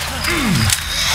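A weapon is reloaded in the Left 4 Dead 2 co-op campaign Swamp Fever, a quick mechanical click and slide lasting about a second over game ambience.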